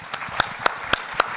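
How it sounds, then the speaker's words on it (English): Applause from a conference audience for panelists, heard as a few sharp, evenly spaced claps at moderate volume. "Please give a round of applause to our great panelists."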